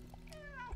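A cat meows in the video game Stray, a single drawn-out, slightly rising call heard clearly over a low steady game ambience.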